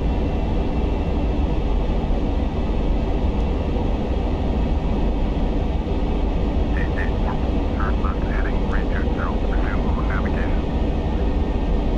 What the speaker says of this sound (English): Those two planes look awfully close, and they're about to go right over the top of us.